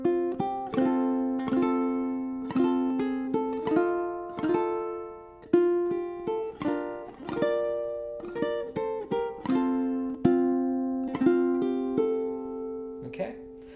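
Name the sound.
ukulele playing a song, strummed and plucked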